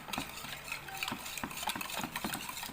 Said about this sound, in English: Whisk it some more.